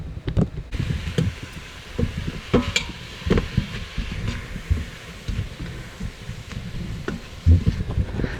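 Mushrooms cook in a pan with a faint, steady sizzle, broken by scattered scrapes and dull knocks of a utensil moving them around, close by and without voices.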